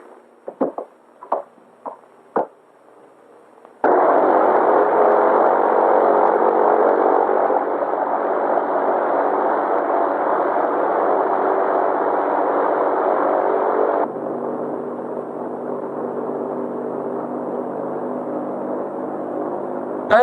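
A WWII bomber's aircraft engines run with a loud, steady droning roar after a few sharp knocks, the drone dropping slightly in level partway through and then holding.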